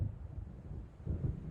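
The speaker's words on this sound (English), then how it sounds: "It seems there's a storm coming." Low, muffled thunder from an approaching storm in the video game Alan Wake, a distant deep rumble that swells and fades, with a heavier roll near the end and no voices.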